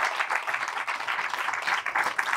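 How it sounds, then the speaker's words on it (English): Moderate audience applause at an outdoor Green Gathering talk, a steady patter of many hands clapping without pause. "round of applause for being here"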